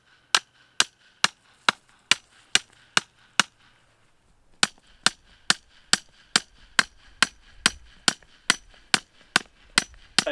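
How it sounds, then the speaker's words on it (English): A not especially heavy hammer pounds a fence post outdoors: about twenty sharp, evenly spaced blows ring out close by, with a short pause after the first eight strikes before the pounding resumes. "I don't have a super heavy hammer."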